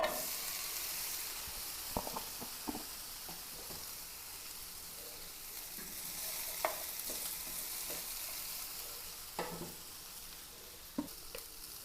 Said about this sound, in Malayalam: ഇനി ഇതിലേക്ക് നമുക്ക് ഈ പാനിലിട്ട് തന്നെ നമുക്ക് അല്പം വെണ്ടക്ക മെഴുക്ക് പുരട്ടി റെഡിയാക്കാം